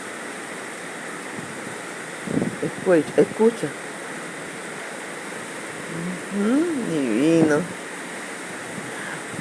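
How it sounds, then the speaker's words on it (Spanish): Heavy rain pouring down in Valencia, a steady broadband hiss running through the whole stretch, with a person speaking briefly over it twice. "como está lloviendo fuerte. Llueve fuerte en Valencia,"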